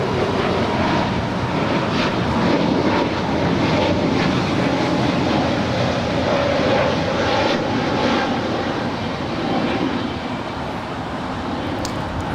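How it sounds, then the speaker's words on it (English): An Emirates Airbus A380 on final approach at LAX gives a steady, loud jet roar that holds broadly for the whole stretch, easing slightly toward the end, with no one talking. "And the Emirates A380 now on final approach."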